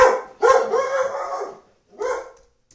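Dogs at home bark at neighbors working outside, a close, loud run of barks followed by a pause and then one more short bark, with no talking.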